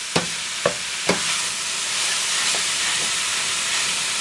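Meat for shepherd's pie browns and sears in a hot pan, a loud continuous sizzle and hiss with three sharp scraping stirs near the start, then steady frying.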